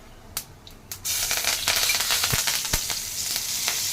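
Raw papaya pieces and curry leaves hit hot oil in a pan, a few clacks, then a sudden burst of loud, crackling sizzle that continues close by with occasional sharp pops, and no voices.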